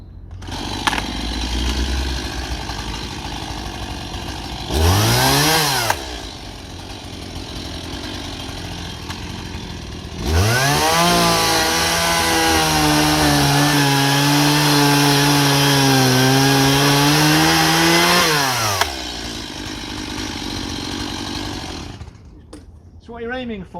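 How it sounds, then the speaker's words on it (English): A chainsaw cutting hedge wood during hedge laying revs up loudly in two bursts, a short one then a long sustained cut lasting several seconds, with engine idling between. "so I'm going to actually use the chainsaw for that."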